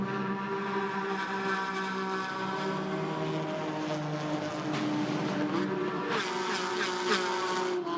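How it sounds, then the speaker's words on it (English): Porsche Cayman 718 GT4 race cars howl past a trackside wall camera at Hockenheim during a GT4 European Series race, a loud continuous engine drone with a second car's sharp pass near the end. "Great noise for the Porsches as they flash past the wall cam down towards the stadium again."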